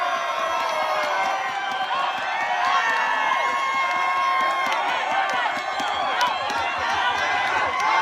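Dense crowd of James Lee's supporters cheering and shouting at a Thai Fight Club bout, a close, continuous roar of voices and whoops throughout.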